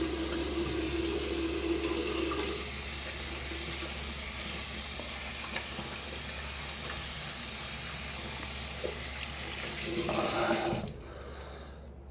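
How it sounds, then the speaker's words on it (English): Hands washed under a running bathroom tap after shaving, a steady close splashing rush of water that runs for several seconds and then stops abruptly near the end, with no talk. "Now wash the excess off my hands."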